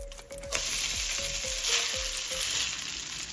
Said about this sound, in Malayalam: ഞാനിത് നന്നായിട്ട് ഇളക്കുകയാണ്